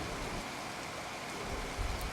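Steady rain falls in a continuous, even hiss of drops on surfaces, growing slightly heavier toward the end, with no voices.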